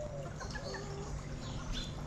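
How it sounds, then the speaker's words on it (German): Hens being fed in a coop, soft clucking and brief chirpy calls at moderate distance over a steady low background hum. "Wir füttern die Hühner"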